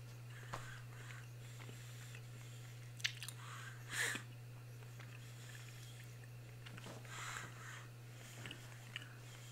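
Close, intimate chewing of gum in an ASMR-style recording: soft wet smacks and bites come in irregular bursts over a constant low hum, with quiet sniffs between them.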